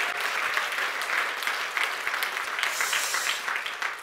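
A church congregation at a 15th-anniversary thanksgiving service applauds in praise, a dense, continuous wash of clapping throughout at steady loudness.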